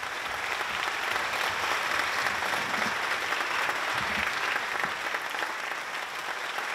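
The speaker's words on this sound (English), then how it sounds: "A big round of applause for all of them." Audience at a classical music festival gives a warm, even round of applause, a continuous wash of many hands clapping at moderate, distant-sounding volume.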